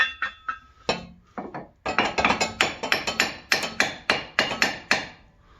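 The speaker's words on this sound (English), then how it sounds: "you can grab probably a hammer and hammer this out so you can slide this out." Sharp metallic hammer blows strike a lower control arm bolt on a 2016 Subaru WRX, a dozen or more ringing clinks in a fairly steady rhythm, close and loud with no voices.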